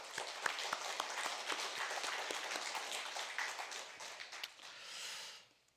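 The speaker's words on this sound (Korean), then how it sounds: "우리 하나님께 영광의 박수를 드리겠습니다" A church congregation applauds loudly with dense, sustained clapping that fades out near the end.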